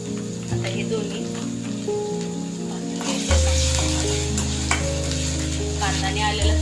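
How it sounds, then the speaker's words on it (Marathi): Onion and ginger-garlic paste sizzle loudly in a pan for a potato vegetable dish, constant frying with occasional stirring scrapes over a steady low hum from nearby appliances. "कांदा आणि आलं लसणाची पेस्ट हा मी भाजून घेतलेला आहे"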